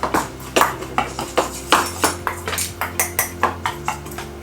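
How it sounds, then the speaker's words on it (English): A utensil scrapes and clinks rhythmically against a bowl while stirring a dry spice rub containing mustard, about a dozen evenly spaced strokes, loud and close with no talk. "Stir all of this up."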